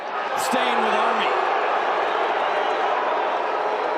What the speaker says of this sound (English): Dome crowd can't believe it.